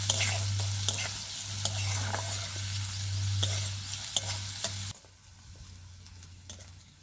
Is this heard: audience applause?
no